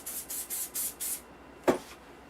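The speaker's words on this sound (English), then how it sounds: "Then spray glue it." Spray glue hisses from a can onto duct tape in five short, even bursts, followed by a soft rubbing or handling sound close by.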